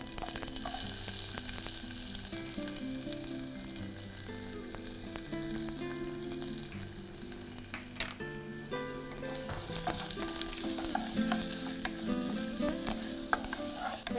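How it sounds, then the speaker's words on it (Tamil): Oil sizzles and crackles steadily as shallots fry, with occasional stirring clinks and a background musical hum. "தாளிச்சுட்டு அதுக்கப்புறமா நம்ம நறுக்கி வச்சுருக்க சின்ன வெங்காயம் சேர்த்துக்கோங்க"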